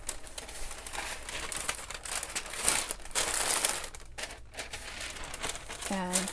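Packing tape folded over while wrapping a sequined formal dress for shipping, close crinkling and crumpling of tape and plastic in irregular rustles, with a person talking over it.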